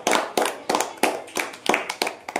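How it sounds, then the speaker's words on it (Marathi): Children clap repeatedly in a classroom, about seven sharp bursts in steady rhythm, close and fairly loud, with no talking over them. "त्याला टाळ्या वाजवा"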